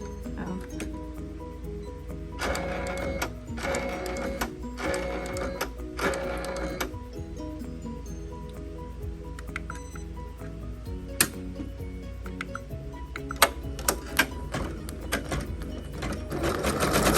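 Janome MB7 embroidery machine stitching a backpack tag, a quiet rapid mechanical rattle with rhythmic bursts of higher whirring and occasional sharp clicks, steady and close.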